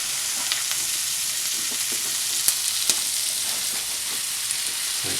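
Tomatoes and asparagus fry in a pan with a steady, bright sizzle and the odd tap of stirring, no voices over it.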